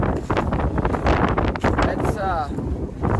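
Strong wind buffets the microphone outdoors beside a running combine harvester, a steady loud rumble with gusty low roar throughout while someone talks over it.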